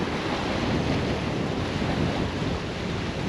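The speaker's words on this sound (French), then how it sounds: "Il y a énormément de vent." Strong wind by the sea on a jetty during surfcasting, a constant loud roar buffeting the microphone with surf mixed in, steady throughout with no voices.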